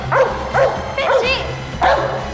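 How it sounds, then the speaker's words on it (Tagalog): A dog gives several loud, close barks with whimpery yips, about four sharp bursts over a steady low hum, in a dramatic scene. "Mabangis ang asong yan"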